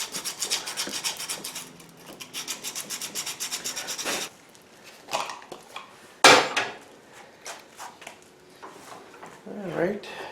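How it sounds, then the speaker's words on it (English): A small piece of sandpaper is rubbed by hand over a steel double-bit axe head, giving rapid rhythmic rasping strokes, then scattered scrapes and knocks, with brief voices in between. "we'll just make quick work of this with a little piece of sandpaper"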